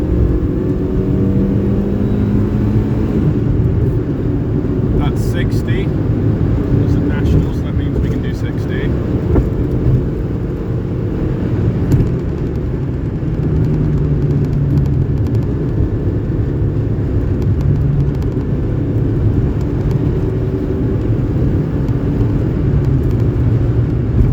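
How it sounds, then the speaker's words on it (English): A Suzuki Alto car accelerating on a road, heard from inside as a loud, continuous engine drone and road rumble that holds steady, with a few brief faint clicks near the start. "aka the only time my car has any acceleration."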